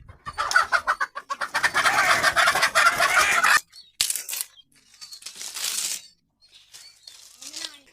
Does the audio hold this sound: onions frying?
no